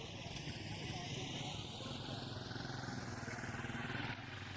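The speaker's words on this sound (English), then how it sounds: "Motorbike is the predominant mode of transportation to and in the locality" A motorbike engine runs steadily on a rural road in the Leke division, a continuous loud drone with a shifting pitch that falls then rises, while a voice speaks over it throughout.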